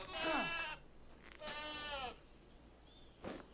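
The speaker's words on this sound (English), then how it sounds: "Well, someone just killed a goat." Goat bleats in the survival crafting video game Wild Terra 2, a couple of loud wavering cries followed by a fainter short one, with no talking over them.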